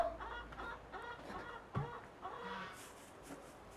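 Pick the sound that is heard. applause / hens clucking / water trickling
hens clucking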